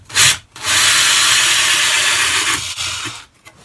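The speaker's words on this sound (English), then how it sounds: "I'm just going to drill into this bit of sort of 5mm hardboard." A Bosch Progressor hole saw bites into 5mm hardboard with a loud, rough grinding rasp, a short burst followed by a sustained cut of about two seconds that tapers off, without talking.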